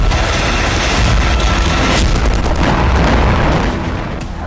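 Ballistic missile strikes on Kharkiv, a loud, sustained roaring rumble broken by sharp cracks and booms that continue throughout before easing slightly at the end.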